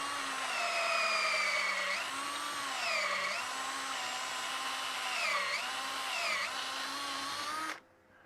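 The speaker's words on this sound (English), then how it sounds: "drill my depth hole." A power drill whines steadily into spinning wood on a lathe, drilling a depth hole in a hollow-form vase, its pitch dipping and rising as it bites, loud and close, then cutting off abruptly at the end.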